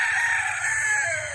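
A bulik gamefowl rooster on a gamefarm crows once, a loud, close, drawn-out call that holds and then trails downward at the end, heard alone.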